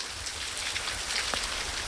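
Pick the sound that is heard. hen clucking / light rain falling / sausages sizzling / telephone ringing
light rain falling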